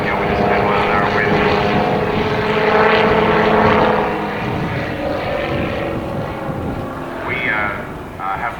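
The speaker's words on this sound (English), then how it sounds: "bringing the nose up into the wind, almost stopping there in the air" A Helio Courier propeller plane flies slowly with its nose up into a 10 mph wind, almost hovering. Its engine drones steadily and loudly with a tonal hum, and someone narrates over it.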